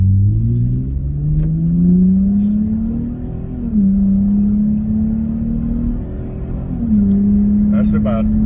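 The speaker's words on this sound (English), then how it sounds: "Oh, there it goes. A little bit of rumble." A 2024 Nissan Frontier truck with a custom equal-length exhaust drones loudly and steadily from inside the cab, the engine note climbing and briefly dipping twice as it revs on the road.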